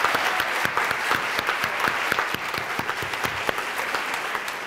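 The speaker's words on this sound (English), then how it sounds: "So please give yourself a round of applause." A college audience of alumnae gives a dense, sustained round of clapping, steady and fairly near, with no speech over it.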